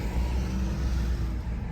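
A Ford F-150 pickup with a newly installed 2-inch leveling kit rumbles along the road, its engine and road noise a steady low drone, close and continuous with no talk.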